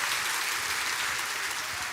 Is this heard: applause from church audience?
yes